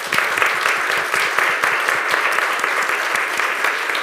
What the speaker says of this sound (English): I think if we can give a round of applause